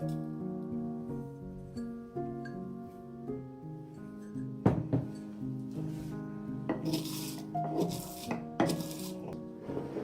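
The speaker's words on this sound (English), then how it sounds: "use your mortar and pestle to really grind it into a powder" Ash being ground into powder with a mortar and pestle, producing gritty scraping and rubbing strokes with occasional knocks, close and moderately loud over sustained background music.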